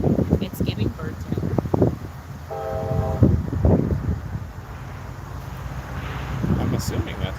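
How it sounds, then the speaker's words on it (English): Train rolling past outdoors during a severe-weather storm chase in the PA/OH/WV area, a brief steady horn blast rising over the rumble, with voices talking throughout. "I'm assuming that's a train."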